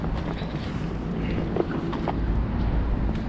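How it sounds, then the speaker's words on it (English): Strong wind blows steadily across the microphone near the water on an island off Nassau, Bahamas, a loud continuous low rumble with no talk. "that wind is still whipping to the side"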